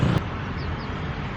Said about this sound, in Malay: Bunyi-bunyi bas, kereta sebagainya.